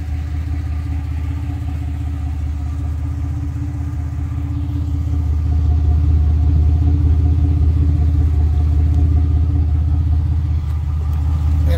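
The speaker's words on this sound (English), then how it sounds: "hear what it sounds like at idle with this Series 70 Flowmaster on here" A car engine with a Flowmaster Series 70 exhaust idles with a deep, steady exhaust rumble, growing slightly louder partway through and holding constant, close by with no talking.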